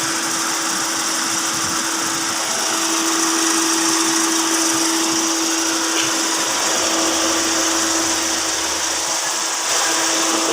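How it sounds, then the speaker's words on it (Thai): Electric radiator cooling fan of a Volvo 940 running at its second speed, a loud, steady whooshing roar with a constant hum underneath, unbroken throughout and with no voices. "พัดลมสปีดสองทำงาน แล้วครับ"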